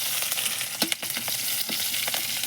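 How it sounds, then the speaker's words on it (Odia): Onions, green chili and mustard seeds sizzle steadily in hot oil in a pan, a dense continuous fry with sharp crackles and scraping stirring clicks scattered through. "ପିଆଜ ଭାଜିଦେବା"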